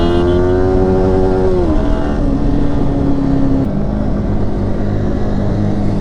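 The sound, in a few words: motorcycles racing in traffic, Pulsar 220 and R15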